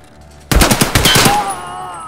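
A rapid burst of automatic gunfire in the video game Escape From Tarkov, about eight to ten sharp, close, loud shots in quick succession, then a ringing tail fading over the last half second, following brief near-silence.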